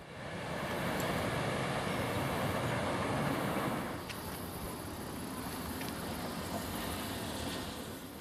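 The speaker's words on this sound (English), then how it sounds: "The locomotive is now seen in the Southern Highlands of New South Wales." A locomotive runs through the Southern Highlands of New South Wales, a loud, steady rumbling roar that eases a little halfway through and then holds at a lower level.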